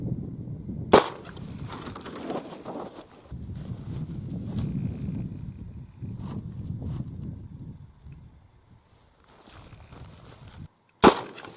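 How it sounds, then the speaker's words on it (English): A shotgun firing a third-generation Shooting Star slug at a milk jug outdoors: two sharp, loud blasts, one early and one near the end, with wind and shuffling ambience in between. "I might as well try shooting a milk jug"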